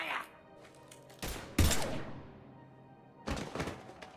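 Gunfire in the video game Mass Effect 3: a few bursts of shots in quick succession, loud and close, with softer background noise and game ambience between the volleys.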